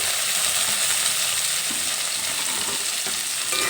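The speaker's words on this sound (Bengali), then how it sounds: "এই পেঁয়াজ আর আলু একসঙ্গে কিছুক্ষণ ভেজে নেবো" Onion and potato pieces frying together in a pan, a steady loud sizzle with scraping and stirring throughout, no voices.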